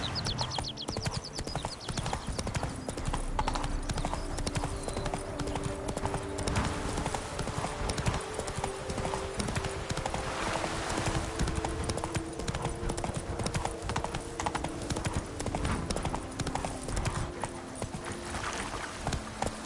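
Horse galloping in The Witcher 3, hooves clip-clopping in a fast steady rhythm close up and loud throughout, with game ambience and occasional snorts.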